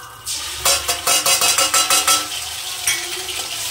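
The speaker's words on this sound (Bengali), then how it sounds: "এটাকে হালকা একটু কষে নেব।" Chopped garlic, ginger-cumin paste and radhuni are sautéed in a pan for a fish-head and Malabar spinach dish, a close sizzle broken by a quick run of rhythmic scraping stirs, fairly loud.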